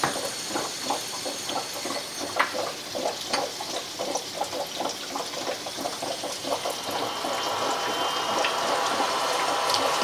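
Oxyhydrogen (Brown's gas) diffusing from a stone into water, a steady close bubbling hiss with a dense patter of small bursts running continuously throughout.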